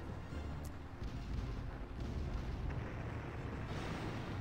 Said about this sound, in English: I'm gonna need one more rocket launcher hit.